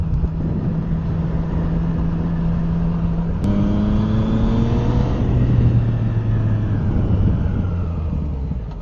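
A tractor engine passes a moving motorcycle on a country road: a steady engine drone with a rising whine from a passing vehicle that fades away, all under heavy wind rumble.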